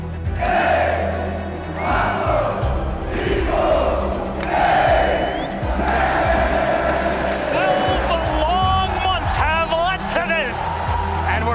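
A large crowd at an esports stadium, Ginásio do Ibirapuera in São Paulo, Brazil, roars and chants for Brazilian teams at the Rainbow Six Six Invitational 2024 grand final, sustained and loud with surging shouts.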